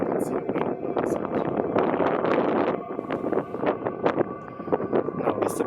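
Wind gusts over desert dunes in an abandoned, sand-buried village in Dubai, a rushing, buffeting roar with uneven bursts and rustling, loud against the microphone and fairly close.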